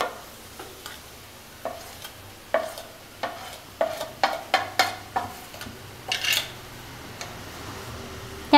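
A spoon stirs chili powder and browned coriander powder in a pan over a low flame for a Kerala-style tuna curry. Close, scattered scrapes and taps sit over a faint, steady background.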